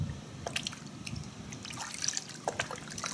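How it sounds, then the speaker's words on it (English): Chemical Guys Citrus Wash car wash soap poured into a bucket of water, a soft close trickle and dribble of liquid with scattered drips, fairly quiet and without talk. "When we pour it into the water,"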